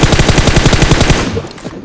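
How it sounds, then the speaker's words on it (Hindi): M4 rifle fire in a battle royale video game: a fast, loud burst of automatic shots in a tight, even rhythm for over a second before cutting off into a brief tail. "मच जाता है पूरे रेंगल में शोर जब चलाता है तुम्हारा भाई M4"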